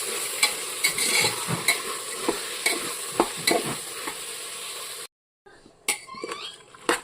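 Peas, beans, carrot and other vegetables fry in a pan while a spoon stirs them, with repeated scraping clinks over a steady sizzle, a brief pause, then more stirring.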